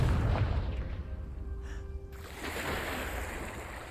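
A Confringo fire spell bursts in Hogwarts Legacy with a deep, booming explosion that opens loud. It fades into a rumbling tail, and a sustained hiss of flames lingers afterward.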